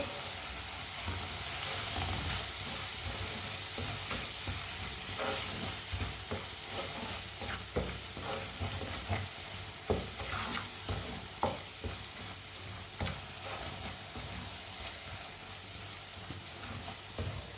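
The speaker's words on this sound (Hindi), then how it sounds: "सब मसालों को 1 मिनट के लिए पका लेंगे।" Red chilli, crushed chilli and turmeric cook in a pan on low heat, making a soft, steady sizzle with occasional stirring scrapes, quiet and close, without speech.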